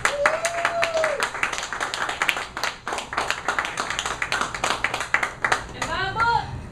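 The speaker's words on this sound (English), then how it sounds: "Give yourselves a hand." An open mic crowd at a coffee shop applauds throughout, with dense, steady clapping at moderate distance and brief voices and whoops mixed in.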